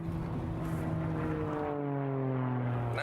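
A car driving in third gear on punctured tyres, with the tyres running on the rims. A loud, steady, droning roar carries several tones that slide slowly in pitch, heard up close with no talk.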